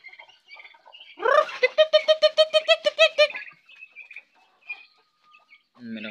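Small chickens cluck in a quick, steady run of repeated calls, close by, with a few scattered softer clucks and chirps around it.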